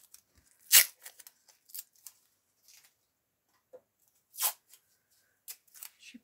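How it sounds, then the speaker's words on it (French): Several short, scattered bursts of sticky tape being pulled and crackling off a roll, close and quiet, with silence between tugs. "J'ai mon scotch qui s'ouvre mal."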